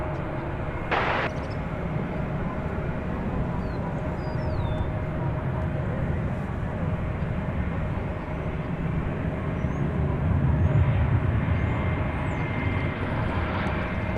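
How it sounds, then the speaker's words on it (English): An American Airlines Airbus A321 airliner at DFW Airport sends out a steady, loud jet engine roar that holds throughout with a broad low rumble and a slight swell near the end, with no talking. "It's an Airbus A321."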